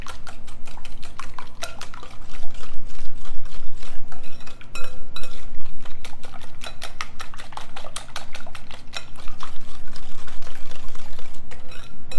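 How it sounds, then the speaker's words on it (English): A whisk beats rapidly and steadily against a bowl as sugar, flour, lemon zest, eggs and lemon juice are mixed into a lemon bar filling, giving a dense run of close, clinking strokes with brief pauses and no talk. "making sure all of the sugar, the flour, and the lemon zest is mixed really well with the liquids"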